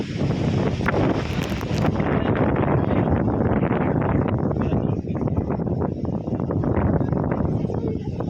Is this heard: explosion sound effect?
no